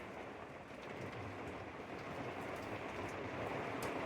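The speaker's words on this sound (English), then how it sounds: "Now we've got a storm, just had some lightning," Torrential rain pouring steadily during a storm, a dense continuous hiss and roar close by that swells slightly louder toward the end, with no talking.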